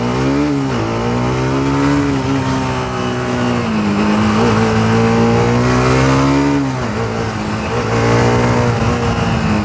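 A loud TVS Apache RR310 sport motorcycle engine revs and pulls hard, pitch climbing and dipping through gear changes, continuous and close throughout with no talking.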